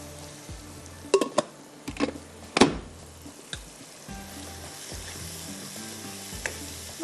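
Ground tomatoes fry with masala in a pan for Kashmiri chicken masala, giving a constant close sizzle broken by a few sharp scraping stirs and clinks, with no talking.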